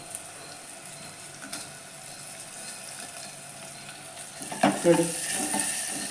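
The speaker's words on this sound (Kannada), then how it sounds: "ಚೆನ್ನಾಗಿ ಫ್ರೈ ಮಾಡ್ಕೊಬೇಕು ಬೆಳ್ಳುಳ್ಳಿನ." Garlic and dried red chillies fry in hot oil for a sambar, a steady soft sizzle with a brief burst of stirring and clatter near the end. A single word is spoken.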